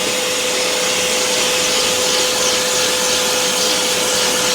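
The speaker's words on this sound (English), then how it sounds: "This is just vacuuming with the nozzle to be able to get into tight places." Stainless steel Vacmaster shop vac cleaning a dirty car through a narrow nozzle, a loud steady roaring whoosh with a constant high motor whine, running unbroken and close.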